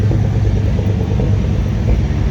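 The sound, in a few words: 1971 International Travelall 1210 engine idling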